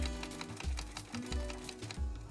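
A sewing machine stitches a short upholstery trim seam, its motor running in a steady close whirr with quick needle-beat pulses and brief pauses as the stitching direction reverses, faint and alone with no voices.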